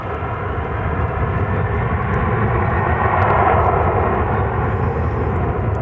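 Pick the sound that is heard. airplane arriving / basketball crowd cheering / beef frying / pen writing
airplane arriving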